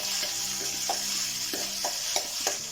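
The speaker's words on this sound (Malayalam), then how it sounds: "അപ്പോൾ ഇഞ്ചി നന്നായിട്ട് മൂക്കട്ടെ" Ginger sizzles and fries in a pan for puli inji, a steady crackling hiss with soft scraping stirs of a spatula every half second or so, close and moderately loud.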